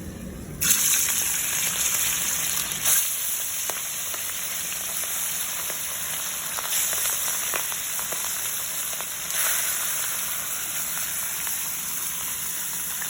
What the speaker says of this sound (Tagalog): ipiprito natin siya ng malasado lang